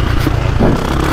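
A 2025 KTM 350XCF dirt bike engine drones steadily on the Briarcliff MX A-track, a short, continuous burst of loud, rough mechanical noise with wind buffeting.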